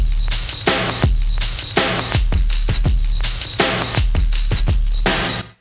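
A loud, heavily compressed drum and bass style electronic drum loop with punchy, pumping kick and snare hits repeating in a steady, dense rhythm, no voices.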